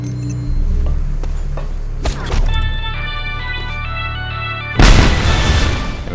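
Explosions in Just Cause 2: a low rumble, then a sharp blast that rings out with lingering tonal debris, followed by a second loud, heavy boom near the end.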